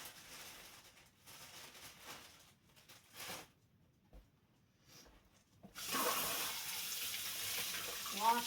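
Water running from a kitchen tap while carrots are washed: intermittent rinsing and splashing at first, then a steady, louder gush of flowing water near the end, close by and with no talk.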